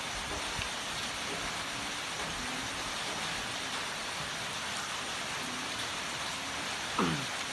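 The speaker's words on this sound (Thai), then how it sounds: "บรรยากาศฝนตกครับ" Steady rain falls in a broad, even hiss throughout, with a faint brief chirp near the end and no one speaking.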